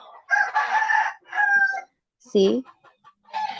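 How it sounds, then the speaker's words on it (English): A rooster crows once, short and fairly close, in a brief break between stretches of a person talking. "The rooster is saying good morning, guys, to you."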